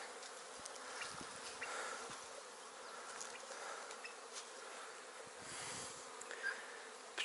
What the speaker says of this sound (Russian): Пчелы проснулись и начали свой весенний облет.